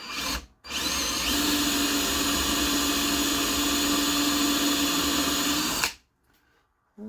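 A power drill bores into the metal of a Jeep JK while fitting side mirrors, giving a loud, steady whine for about five seconds after a brief start, then stopping. No speech.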